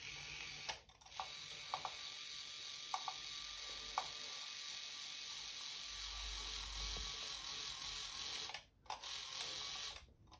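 A small electric motor clamped to a sink spins a remote-controlled water tap, giving a steady mechanical whir with ratcheting clicks. It runs continuously at close range and cuts out briefly near the end before starting again.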